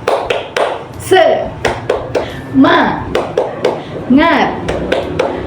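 A classroom of students performs the 'tepuk semangat' rhythmic clap chant, with a quick run of sharp, evenly spaced claps mixed with loud group voices shouting along.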